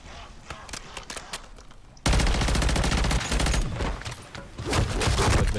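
Rapid BP50 gunfire in MW3 Zombies rattles out in dense bursts, quieter at first and then much louder and continuous, with faint game sounds underneath.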